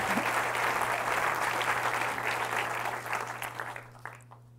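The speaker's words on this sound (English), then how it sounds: "give a big round of applause for Ellie Greenwood" A lecture audience gives speaker Ellie Greenwood a loud, sustained round of applause at FEAT Canada. The clapping stays dense for about three seconds, then thins to a few scattered claps and fades out.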